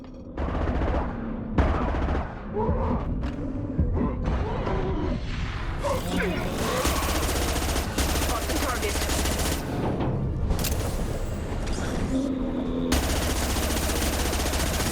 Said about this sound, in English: we just keep shooting above the box